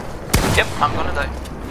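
Video game shotgun fire: a sharp close blast followed by a couple of quieter reports and impacts within under two seconds, with a voice talking underneath.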